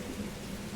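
Steady rainfall with a low thunderstorm rumble underneath, a constant dense wash of sound holding at an even level throughout without any distinct thunder crack.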